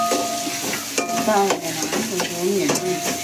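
Grated coconut sautéed in a pan until golden brown, with a utensil scraping and stirring in steady strokes over a continuous close sizzle of frying.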